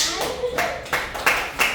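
A classroom group claps hands in a slow, even rhythm of about five close, loud claps over under two seconds, with a voice speaking over them.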